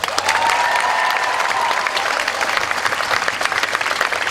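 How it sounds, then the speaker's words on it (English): A theatre audience applauds a stage crew member at a Winter Wonderland show. The clapping is steady and sustained, with a few voices faintly mixed in, and fades slightly toward the end. "Round of applause for Penny."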